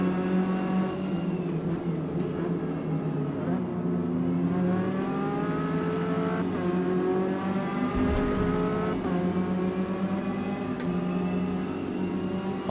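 Ginetta Junior race car engines in the Forza Motorsport video game, a continuous loud whine that rises and shifts pitch through gear changes, with other cars close by and no talking.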